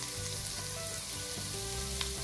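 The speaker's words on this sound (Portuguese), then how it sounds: "a fritar nessa gordurinha aqui, do bacon" Shredded cabbage frying in rendered bacon fat with olives in a pan, a steady soft sizzle and crackle with occasional small pops, continuous and close.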